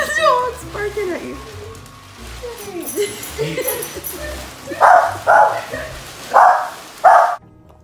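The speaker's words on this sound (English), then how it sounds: "This dog's barking at you." A dog barks in a few sharp bursts near the end, after a stretch of speech and background noise.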